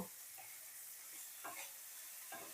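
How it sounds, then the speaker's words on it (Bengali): Vegetables frying in ghee in a pan while cooking fried rice, a steady soft sizzle with a few brief stirring scrapes, fairly quiet and close, no talk. "আমি এখানটায় সবজিগুলো ঘি দিয়ে ভাজলাম"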